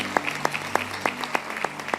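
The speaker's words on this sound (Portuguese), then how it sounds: "Dá para aplaudir o Senhor?" Rhythmic clapping from a church congregation during a sermon, brisk even beats close by over a low steady hum.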